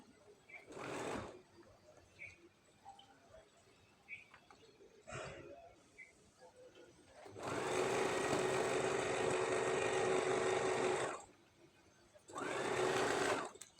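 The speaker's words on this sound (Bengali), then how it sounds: "এবার আমি সমান করে সেলাই করে নেব।" A sewing machine runs a straight seam on scrap-fabric patchwork for a pillow cover: a short burst, then a long steady whirring run of about four seconds and another brief burst, with quiet handling noise between.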